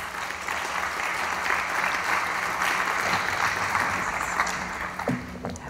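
Applause from the audience at an evening ceremony for the National Academy of Sciences' 80th anniversary, a steady, dense round of clapping held throughout before thinning at the end.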